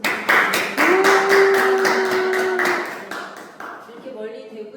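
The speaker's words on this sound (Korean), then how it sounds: "정반진 선생님께 다시 한번 큰 박수 부탁드립니다." Audience applause after a history lecture, loud rhythmic clapping with distinct beats that thins out toward the end, while a steady tone and some background voices run underneath.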